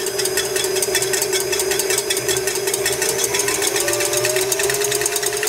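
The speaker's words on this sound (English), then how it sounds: "So you start off very slowly, and then gradually bring the mixer up" Electric stand mixer running steadily at medium speed while mixing biscuit dough for Fave dei Morti, a continuous mechanical whir with a rhythmic rattle, close and fairly loud throughout, with no talking.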